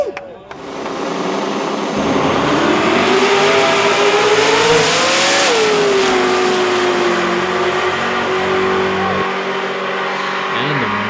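Ford Mustang making a drag race run at a midnight drags event, its engine revving loud and close, rising steadily in pitch as it accelerates down the strip, then holding a sustained roar before easing off, with a faint voice underneath.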